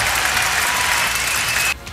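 An audience bursts into steady applause, a dense wash of many hands clapping at once that holds loud and even for nearly two seconds before cutting off abruptly.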